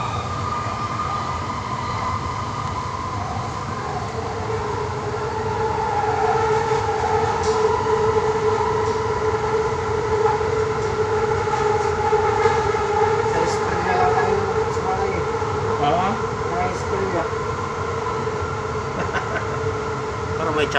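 A light rail train running between Asia Jaya and Pasar Seni, with a steady rumble and rising, whining tones from the wheels and motors, loud and close, while people talk faintly underneath.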